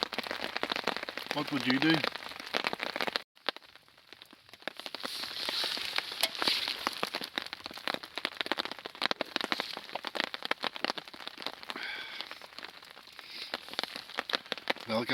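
Steady rain during a UK lightning storm pelts a hammock camp, a dense close crackle of drops on fabric. Someone speaks briefly over it.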